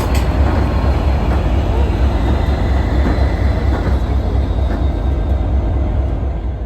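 Former passenger F40 locomotives in B&O paint on the CSX Santa Train, rumbling and roaring loud and close with a steady heavy drone of rolling rail cars throughout.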